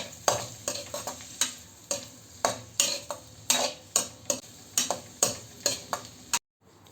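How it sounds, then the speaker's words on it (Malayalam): Pre-cooked gooseberries stirred and sautéed in a pan for a stir fry, a spoon scraping and clacking against the pan in regular strokes about twice a second over a soft sizzle, close and without talk. "നേരത്തെ വേവിച്ച് വെച്ചിരിക്കുന്ന നെല്ലിക്ക ഇതിലേക്ക് ഇട്ട് കൊടുത്ത് 2 മിനിറ്റോളം നമുക്കിതൊന്ന് ഇളക്കി കൊടുത്ത് ഒന്ന് വഴറ്റിയെടുക്കാം"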